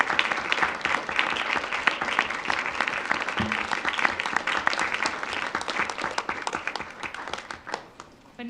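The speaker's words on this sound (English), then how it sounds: "Please stand up and let us give you a round of applause." An audience at a school district board of education meeting claps in sustained, dense applause that holds steady for several seconds before tapering off slightly near the end.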